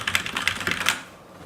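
Fast typing on a Cooler Master NovaTouch TKL keyboard with Cherry MX Brown switches, a quick close run of crisp key clacks that stops after about a second, leaving quiet.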